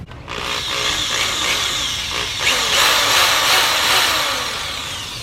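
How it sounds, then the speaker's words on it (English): A power drill bores a small pilot hole for a WickerBill spoiler on an SRT8, a steady loud whirring grind lasting several seconds with a brief rise in pitch partway through. "This little bitty hole is all that you need, just so you can pilot the bigger drill bit."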